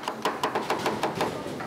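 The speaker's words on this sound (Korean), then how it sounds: "아니 칼질 소리가 저는 난타하는 줄 알았어요." A kitchen knife chops rapidly on a cutting board while side dishes are prepared, a quick run of about a dozen sharp, evenly spaced taps, fairly close.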